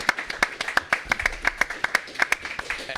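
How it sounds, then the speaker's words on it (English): Applause from a recovery-meeting audience after a performer's turn, a steady patter of many hands clapping with sharp individual claps standing out, moderately close and lasting throughout. "Give Rochelle a nice round of applause."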